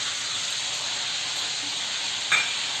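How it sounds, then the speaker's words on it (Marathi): Cumin seeds frying in butter and oil for pav bhaji, a steady close sizzle throughout with a brief stir or clink near the end. "जिरा चांगला फ्राय व्हायला द्यायचा."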